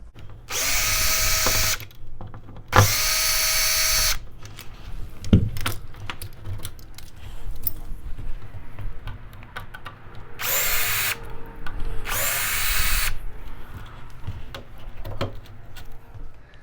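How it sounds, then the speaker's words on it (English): A power drill backs out the bolts and screws of an old door deadbolt, running in loud, close whirring bursts of a second or two each, with small metallic clicks and handling noises in the quieter gaps between. "you just unscrew these two bolts as well as these two screws and everything will come"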